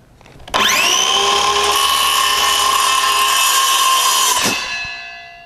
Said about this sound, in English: the corded Skilsaw that I have right here rotates longer than this battery-powered Skilsaw right here